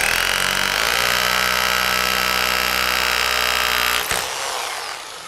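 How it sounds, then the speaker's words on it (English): A power drill runs continuously and loudly at high speed while boring a hole in brick, then cuts off abruptly near the end, leaving a brief fading whir. "And I'm going to drill 2 holes"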